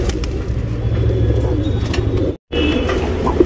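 A tournament pigeon coos in a low, continuous murmur close by, with faint background chirps and a brief dropout.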